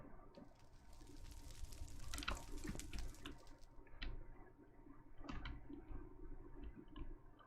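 Game water from Chaoskraft 2, with continuous watery splashing and rushing at moderate level and sharper sloshing bursts scattered through, with no voices.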